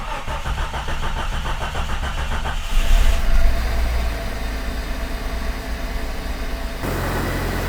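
A Jeep Cherokee engine cranks and starts after repairs, the starter whirring briefly before the engine catches with a loud rev and then settles into a steady idle, up close with no talk.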